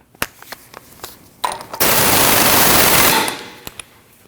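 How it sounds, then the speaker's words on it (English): Tightening the axle nut on a 2013-2019 Ford Escape 1.5L front CV axle: a loud, steady burst of rapid impact-wrench hammering lasts about a second and a half, framed by scattered clicks and clanks. "Now you can install your axle nut and tighten it down."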